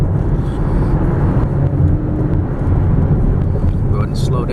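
A 2011 Chevrolet Camaro drives through twisting turns at about 57 mph, its engine and road noise forming a loud, steady rumble heard from inside the car.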